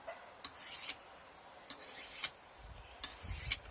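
Knife blade drawn along a Fischer Evolution sharpening steel, three repeated rasping strokes with short scraping rubs and a sharp metallic ring at the end of each pass, close and alone.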